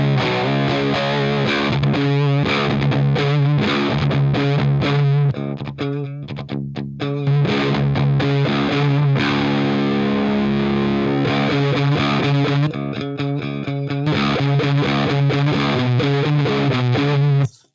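Electric guitar through a Drunk Beaver Bat Cold War RAT-style distortion pedal, gain turned up, plays a loud crunchy riff of chords and single notes, close and alone.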